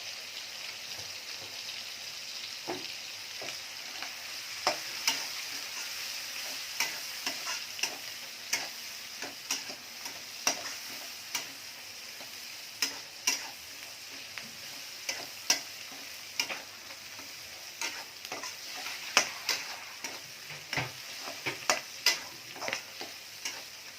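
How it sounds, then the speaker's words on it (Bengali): Onion and garlic fry in a pan for a kochu shak dish, a steady light sizzle broken by frequent sharp scraping ticks of a spatula stirring, close and alone without any talk. "পেঁয়াজ রসুনটা ভাজা হয়ে গেছে"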